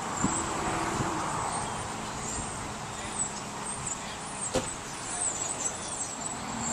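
A car passes on a road near a roadside political gathering, a steady whooshing drone of tyres and engine with a few faint knocks and distant background sounds.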